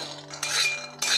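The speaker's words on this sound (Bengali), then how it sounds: "বাদামটা সবসময় নেড়ে যাবে," Peanuts frying in a pan over high gas heat are stirred with a utensil, giving short scraping and clinking bursts with a steady low hum underneath, fairly quiet and with no voices.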